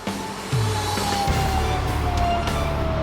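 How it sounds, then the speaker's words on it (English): Sirens wail continuously, a high tone gliding slowly, with a low engine rumble rising partway through and no talking. "Sirens are going off."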